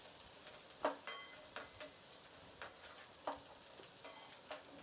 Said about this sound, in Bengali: মিনিট তিন চারেক মতো নাড়াচাড়া করে নিয়েছি এঁচোটা একদম হালকা হালকা একটু ভাজা ভাজা হয়ে এসেছে